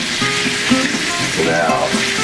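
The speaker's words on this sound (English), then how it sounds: "All you're trying to do is burn the seasoning so it's not as strong." Seasoning searing on fish fillets in a hot pan, a loud, close, continuous sizzle with some stirring and scraping, no voices.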